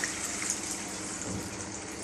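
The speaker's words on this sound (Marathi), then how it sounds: "की पाणी घालायचं" Water is poured into a pan of cowpea bhaji, giving a steady close rushing pour that runs unbroken for about two seconds, with no talking.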